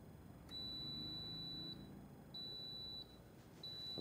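A timer on heating equipment used while building a TaylorMade SIM2 golf driver gives several high electronic beeps, a long tone, a shorter one and a brief final one, clear over a quiet workshop background.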